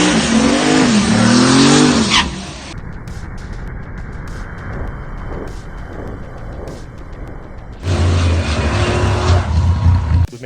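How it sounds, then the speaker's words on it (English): A race car makes test passes on a drag-racing track, its engine revving loudly up through the gears close by, then fading to a distant rumble before a second loud, near burst of engine roar. "we got the car out on the track"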